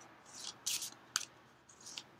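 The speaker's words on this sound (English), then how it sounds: "I'm shuffling the Zodiac Oracle and picking signs as I go." Zodiac Oracle cards are shuffled by hand in quick, crisp riffling bursts, three or four short flurries separated by quiet gaps, close and fairly soft.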